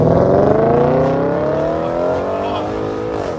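A car with a performance exhaust revs loud and close, its pitch climbing steadily in a sustained roar with a slight dip near the end.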